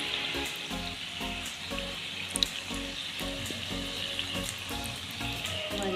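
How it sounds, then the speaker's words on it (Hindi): Potato samosas sizzle steadily in hot oil during deep frying, a constant close bubbling crackle with no talking. "हमारे समोसे फ्राई होके तैयार हो चुके हैं।"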